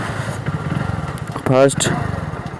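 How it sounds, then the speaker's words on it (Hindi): A motorcycle idles in neutral with a steady low chug, then the engine revs up briefly and sharply before settling back to idle, loud and close, while someone talks over it. "तो देखो अभी मैं बाइक स्टार्ट कर लेता हूँ।"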